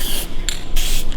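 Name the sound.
aerosol spray of Sharkhide metal protectant on boat trailer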